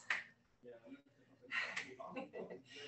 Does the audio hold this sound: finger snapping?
yes